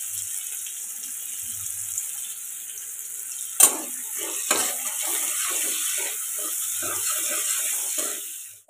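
Garlic, onion, cardamom and cinnamon fry in hot oil, a steady bright sizzle with a couple of sharp clatters and a few soft stirring knocks partway through.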